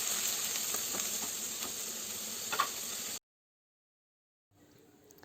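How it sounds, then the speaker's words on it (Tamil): Onions and spices sizzle and fry in a pan for cluster beans poriyal, a close steady crackle with a few stirring ticks, then a pause before quieter frying resumes. "இப்போ இது எல்லாத்தையுமே நல்லா வதக்கி விட்டுடலாம்."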